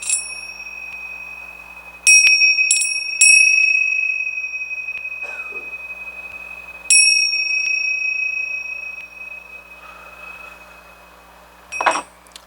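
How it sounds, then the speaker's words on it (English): A loud bell rings in sharp bright strikes, with clustered rings near the start, a renewed strong ring about a third of the way through, and a final burst near the end, each leaving a long ringing decay. "So loud noise, loud bell."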